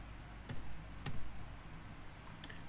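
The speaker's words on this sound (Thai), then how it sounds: "ผมก็พิมพ์ต่อ" Keys on a computer keyboard are struck while a document is written in Microsoft Word: a few sharp, separated clicks at a slow, uneven pace, quiet and close, with no talking.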